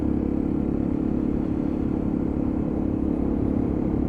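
A Lexmoto ISCA motorcycle rides through double roundabouts, its engine a steady, close rumbling drone under continuous wind noise, holding an even pitch the whole way with no clear revving changes.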